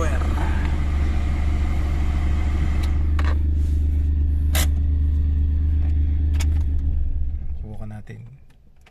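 Suzuki Alto with a check-engine fault, its engine running with a steady low rumble and a few sharp clicks, then fading out toward the end, while someone speaks briefly.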